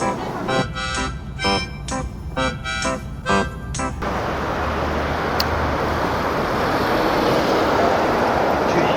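Train ride from Seoul toward Busan: a steady, loud broadband rumble of rail noise fills the second half, after rhythmic clattering bursts at the start.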